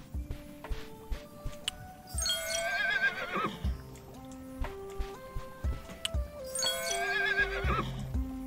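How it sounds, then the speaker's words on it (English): A horse whinnies twice, several seconds apart, in the game Mariposa and the Galaxy Man, over a steady layer of game music with soft clopping hoofbeats. "Space horse."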